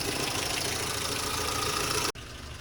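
Renault Clio 1.2 engine idles steadily while warming up, a close, even mechanical hum that cuts out abruptly near the end.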